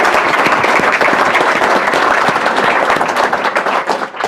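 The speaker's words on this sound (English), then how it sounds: "So can we have a round of applause for our sponsors?" A seated audience at a public policy institute event applauds its sponsors, with steady, dense clapping filling the whole span close by and tapering slightly at the end.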